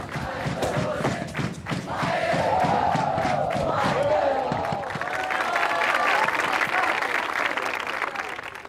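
A raucous crowd cheers and applauds nonstop at an Eton Fives game in Kuala Kangsar, Malaysia: dense, loud clapping and shouting with a few sharp thuds, swelling and staying strong throughout.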